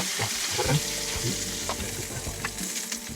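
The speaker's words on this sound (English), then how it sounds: "We've got plenty of butter and oil in there, so next one, potatoes, straight in." Potatoes fry in butter and oil in a pan, a close steady sizzle with scraping and knocking from a bamboo spoon being stirred through.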